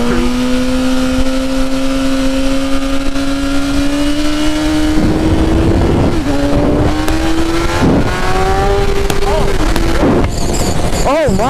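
A fully modified superbike with an electronic throttle accelerates hard up through the gears, loud and close, with a rising engine whine that drops at each shift and wind rush throughout.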